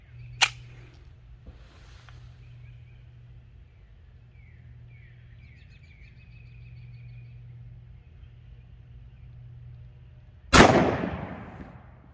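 Single loud, sharp gunshot from a 10mm pistol with a 5-inch barrel firing a Hornady Critical Duty 175-grain round into a test medium, near and abrupt, with a short decay, preceded by quiet background hum, a faint click and distant birds.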